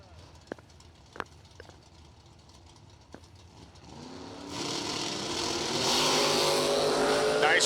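Drag racing launch with a Pontiac Firebird among the cars: a few sharp clicks and pops at first, then engines roar up loud and close and build into a sustained, heavy wall of racing-engine noise.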